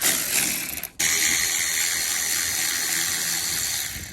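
A ratchet with a 10 mm socket works on the carburetor bolts of a mini jeep, giving a close, continuous fast metallic clicking whir with a brief pause near the start.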